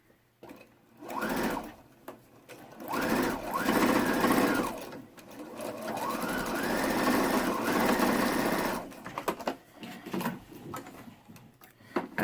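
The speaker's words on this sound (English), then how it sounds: "And I'm going to sew this in the middle-ish of the tail." A sewing machine stitches a fabric face mask in several close, whirring bursts that rise and fall in speed, separated by short pauses.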